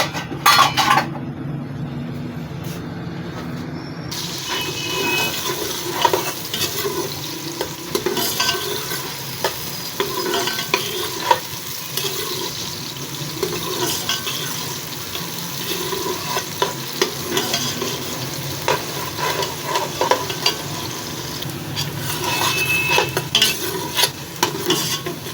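A large chopped onion frying in half a cup of ghee for turnip and meat curry: steady soft sizzle under frequent close stirring clinks and scrapes of a utensil against the pot, no talk.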